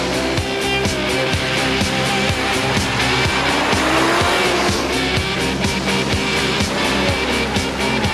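A turbocharged Bugatti car engine roars hard under acceleration, surging in strong lunges as the turbo comes in above about 5,000 revs, with a bit of tire noise, loud and close throughout.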